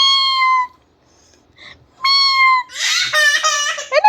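A cat meows in two clear, drawn-out calls separated by a pause, then a rougher, wavering run of meows follows, all close and loud.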